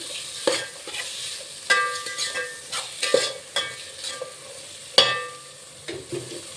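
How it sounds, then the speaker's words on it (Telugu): Tomato pieces stirred into a hot sizzling pan for bagara rice, steady frying hiss with repeated clanks and scrapes of a spoon against the pan, close and fairly loud, no talking. "టమాటా ముక్కలు యాడ్ చేస్తున్నానండి"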